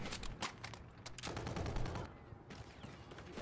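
Quiet bursts of automatic gunfire in a squad-based shooter video game, a rapid string of shots that pauses and resumes, faint and distant with no talk.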